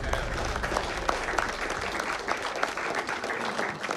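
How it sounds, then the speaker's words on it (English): A crowd applauds in a film scene from Atlas, steady dense clapping that fills the whole stretch at an even, fairly loud level with no break. "And then everyone claps."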